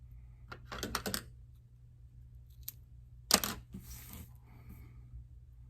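Scissors snip through the tabs of a homemade swim jig skirt, a few short crisp cuts early on and one sharper louder snip later, close and isolated over a low steady hum.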